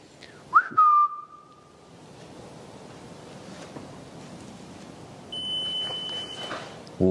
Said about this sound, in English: Can you whistle after me?